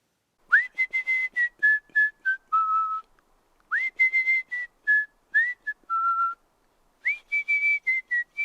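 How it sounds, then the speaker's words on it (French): Someone whistles a wavering tune in short detached phrases with pauses between, several notes slightly sour and sliding off pitch, close and solo. "un sifflement parsemé de quelques fausses notes se fait entendre."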